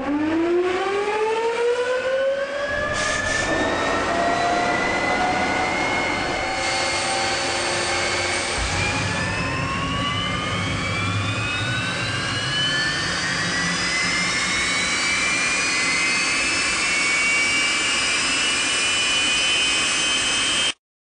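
An experimental aircraft engine, the only one of its kind under development, runs loud and steady, with a rising whine that sweeps upward in pitch over a continuous roaring rush and no talk.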